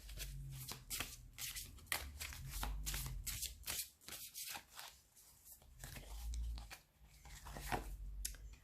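Tarot cards are shuffled and drawn by hand, with a quiet, close run of riffling flutters and soft card slaps repeating across the clip, with no talk over them.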